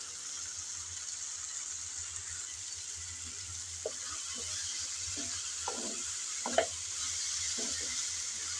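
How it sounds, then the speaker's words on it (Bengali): A tomato dish in a pan being stirred now and then while it fries, with a steady soft sizzle throughout and a few scraping stirs of a spoon against the pan in the second half, alone with no talk. "কিছুক্ষণ পর পর এসে কিন্তু নেড়েচেড়ে মিশিয়ে নিতে হবে, না হলে নিচে লেগে যাওয়ার সম্ভাবনা থাকতে পারে।"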